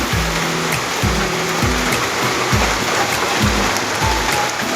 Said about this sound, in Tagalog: So ayan po, grabe ang lakas ng ulan.